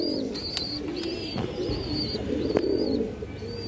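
Green-necked pigeons coo in low rolling calls close at hand, with repeated high chirping bird calls and occasional clicks in the background.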